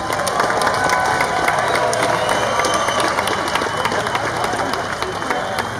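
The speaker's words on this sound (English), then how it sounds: "Can we give them a round of applause?" At a tribute event, a large crowd claps and cheers loudly and steadily, with shouts and whoops mixed into the applause and voices talking underneath.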